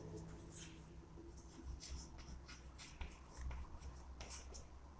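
Pen or chalk writing on a surface while noting electrical terms: faint continuous scratchy strokes with small pauses, soft and close, with low background rumble.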